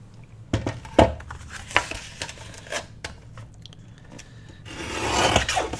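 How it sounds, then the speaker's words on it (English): Paper for a file-folder journal insert being trimmed, a run of rasping, scraping cuts with several sharp bursts and a longer rough sweep at the end, close and fairly loud with no talking. "let's trim both of them off just a hair, because it's a little bit too long for what I need."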